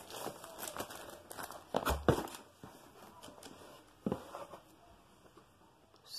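Packaging for a HyperX Alloy Core RGB keyboard is handled and opened, giving close, fairly quiet crinkling and rustling with a couple of louder tearing bursts.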